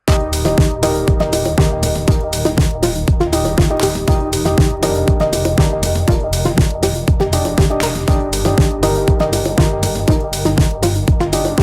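A loud, dense electronic dance track drop pounds with a steady kick beat and thick sustained synth chords, sounding dry and upfront with all reverb turned off.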